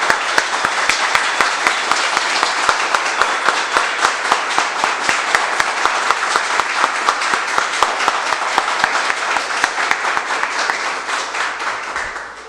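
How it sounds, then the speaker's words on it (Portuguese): An audience at a Spiritist arts group gathering gives a loud, sustained round of applause, many hands clapping densely with a faint steady beat running through it for over ten seconds before tapering off at the end. "mais uma salva de palmas para marcar esse momento"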